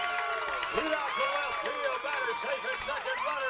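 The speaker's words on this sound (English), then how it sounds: "The ASC crowd has come alive as they now lead by 2" A crowd cheering and calling out at a high school baseball playoff game, with busy overlapping voices and shouts while an announcer talks over the top.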